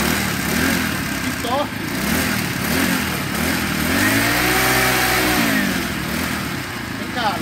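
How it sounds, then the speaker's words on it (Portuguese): A small four-stroke engine, the Super Four, revs up and down with a motorcycle-like note, rising and falling in pitch up close amid steady mechanical noise and people talking. "olha o barulho dela. Vamos levantar ela. Olha, é igual o barulho de uma moto."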